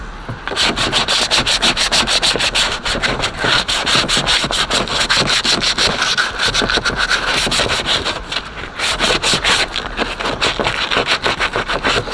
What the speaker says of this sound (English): I put it close to do some little sanding spots with the sander